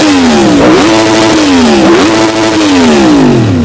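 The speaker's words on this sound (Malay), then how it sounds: "So motor ini sudah start, kami tengok berapa kuat dia punya bunyi." A Yamaha naked motorcycle fitted with an R1 engine, a 2017 model, revs loudly and close by in repeated throttle blips, the engine note rising and falling several times with no talk.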